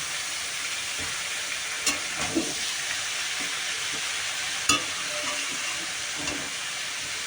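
Cabbage frying and stirred in a pan: a faint steady sizzle with occasional sharp clinks and scrapes from the stirring utensil.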